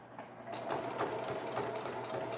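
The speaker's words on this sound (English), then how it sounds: "I'm gonna reverse by 3 or 4 seams, and then I'm gonna keep sewing all the way down." Sewing machine stitching a summer dress seam, running steadily with a reverse stitch to lock it, a continuous close mechanical whir with fine rhythmic ticking throughout.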